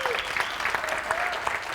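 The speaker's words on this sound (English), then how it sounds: "Give John a nice round of applause" An audience at a summit welcome speech applauds for a guest, a steady, close patter of many hands clapping for a couple of seconds.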